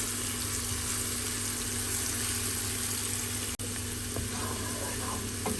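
Okra and eggplant fry in a pan with a steady, close, dense sizzle and crackle that runs throughout, broken only by a momentary dropout.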